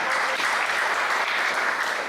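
An audience at an evening church prayer service claps together in sustained, dense applause, loud and even for a couple of seconds.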